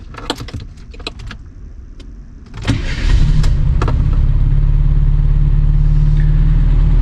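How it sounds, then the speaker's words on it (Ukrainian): A Bajaj Boxer motorcycle, just serviced with an oil change, has a few clicks and rattles, then its engine starts and settles into a steady, loud, close idle while warming up. "Тепер залишилося запустити двигун і трошки його прогріти на холостих обертах."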